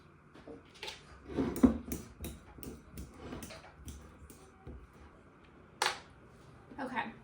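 Bananas being mashed in a bowl for banana nut bread, a series of soft close thuds, squishes and utensil clinks in uneven rhythm, with a quiet voice briefly audible.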